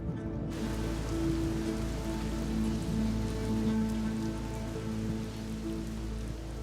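Steady rain falls on a fire-scorched landscape of blackened eucalyptus and dry soil, a dense continuous patter of drops with a low rumbling background, even and unbroken throughout.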